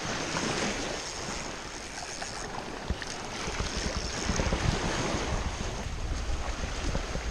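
Ocean waves wash continuously onto a quiet Gulf Coast Florida beach, a broad steady roar swelling slightly midway, with heavy wind buffeting the microphone throughout and no voices.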